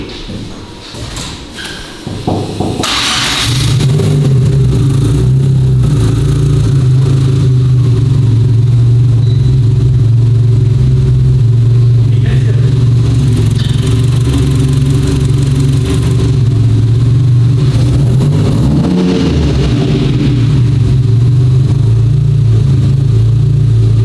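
A 427 hp car on a dynamometer, its engine starting up and then running loud and steady at close range, with a brief rise in revs near the end.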